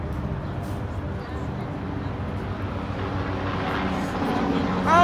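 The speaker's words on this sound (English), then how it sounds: "I don't like that helicopter." A low, rumbling engine drone holds steady and slightly swells, like a helicopter passing overhead, with a voice faintly audible beneath it.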